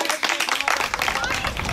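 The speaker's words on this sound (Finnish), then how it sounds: "Aplodit!" A seated audience at a summer meeting gives steady, dense clapping that holds at an even level across the whole stretch, with some crowd murmur mixed in.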